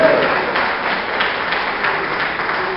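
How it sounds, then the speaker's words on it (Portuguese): A church congregation applauds loudly for Jesus, a steady, dense wash of clapping from many hands with a voice faintly mixed in. "Então dê uma salva de palmas bem forte para Jesus"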